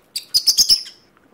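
Pet lovebirds give a quick burst of about five sharp, high chirps in rapid succession, close and clear, then fall quiet.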